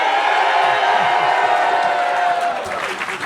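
A live audience at a storytelling comedy show cheers and whoops in one loud, sustained roar with scattered clapping, easing slightly toward the end.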